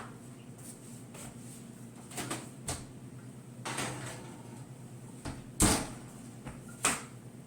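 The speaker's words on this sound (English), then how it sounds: "So let's put it in the oven." A kitchen oven door and rack are handled as a zucchini Greek yogurt loaf goes in to bake, with scattered soft clunks, knocks and a sharper metallic clack amid quiet room noise.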